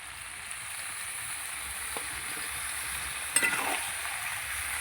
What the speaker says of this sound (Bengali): মশলা দেওয়ার সঙ্গে সঙ্গে বাঁধাকপিটাও দিয়ে দিচ্ছি।